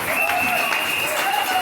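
A congregation at a merit diploma ceremony for orators breaks into a brief burst of dense applause mixed with high cheering voices.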